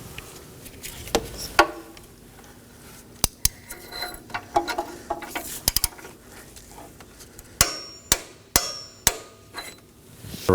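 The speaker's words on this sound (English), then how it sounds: "Now we're going to go ahead and torque this to 31 foot-pounds." Torque wrench tightening an upstream O2 sensor on a 2018-2024 Chevrolet Equinox 1.5L, with sharp metallic clicks and ratcheting taps scattered irregularly through the clip, some in quick clusters, close and clear with no talking.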